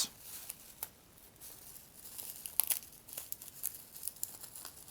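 Plastic wrapping on vintage carded, sealed Action Force figures crinkles and rustles in short, quiet, close bursts, with a few sharper crackles in between.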